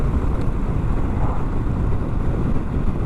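Steady, rough wind buffets the microphone throughout at a motorcycle campsite in Waihi Gorge, a continuous loud roar with no voices.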